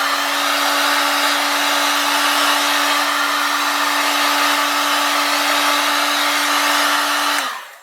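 A hot air blower heating parts of a Liliput SBB NPZ 4/4 model locomotive: a loud, steady whooshing drone with a constant tone that runs unbroken and then cuts off abruptly at the end, no voices.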